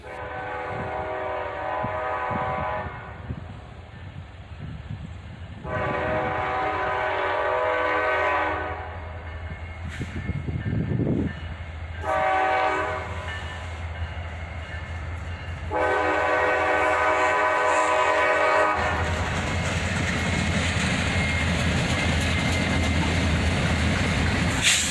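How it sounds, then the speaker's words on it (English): A CSX freight train led by three EMD locomotives, including an SD-42 and an SD-43, rumbles past nearby with a steady low diesel drone, sounding its horn in several long blasts over the continuous roll of the cars. "Three locomotives on this one."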